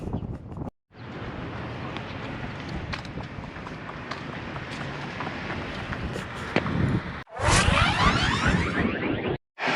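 Wind on a blustery day at a roadside near Des Moines, buffeting the microphone in a continuous rushing roar with gusty swells, briefly cutting out a couple of times, no one talking.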